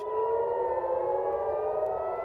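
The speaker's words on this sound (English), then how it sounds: "sirens are being heard across Tel Aviv" Air raid sirens wail steadily in the distance across Tel Aviv, a sustained layered drone with no voices.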